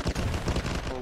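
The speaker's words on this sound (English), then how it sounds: "Whoa! Rocket!" Rocket fire and loud explosive gunfire in a jungle combat video game, a dense, continuous barrage of blasts and shots close by with no talk.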